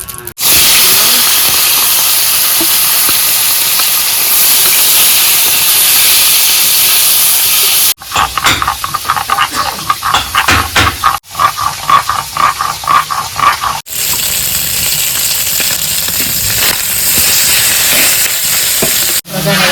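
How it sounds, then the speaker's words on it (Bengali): Fish sizzles in hot oil in a pan, a loud, close, continuous frying hiss with crackling bursts that shift in intensity. "তেলটা দিয়ে দিচ্ছি, তেলটা দিয়ে মাছটা ভেজে নেবো।"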